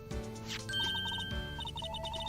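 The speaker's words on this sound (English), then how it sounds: "A phone. Let's see if it works." An electronic phone rings in the Phoenix Wright: Ace Attorney video game, a bright repeated trilling tone in short regular bursts, loud and clear with no talk over it.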